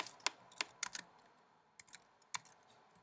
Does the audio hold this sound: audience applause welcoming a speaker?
no